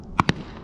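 Gunshots at an outdoor shooting range, two sharp cracks in quick succession, moderately loud against a quiet background with no talking.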